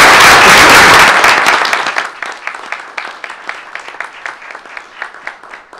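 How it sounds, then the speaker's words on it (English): An audience at a board meeting bursts into loud applause that fades within a couple of seconds, leaving a few scattered claps trailing off. "We'll give you a round of applause"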